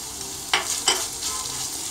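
Minced meat and onion sauté in a pan, a low continuous sizzle with two quick scraping stirs standing out near the middle.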